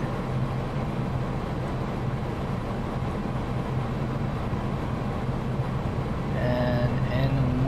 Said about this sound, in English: let's turn the engine up